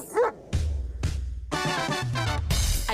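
A dog barks and yips in short, loud bursts, a few spaced single barks followed by quicker repeated barking close by, with no talk over it.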